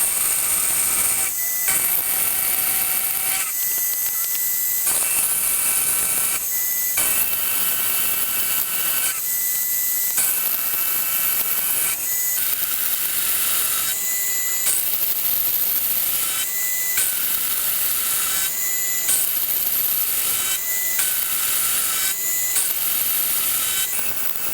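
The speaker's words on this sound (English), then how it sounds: "I'm going to stick in a 20mm carbide end mill and just start hocking into this bit of" A 20mm carbide end mill cutting into a block of metal while making a quick change tool post, giving a steady, loud, high-pitched grinding whine with repeated brief dips as the cutter passes, close and continuous.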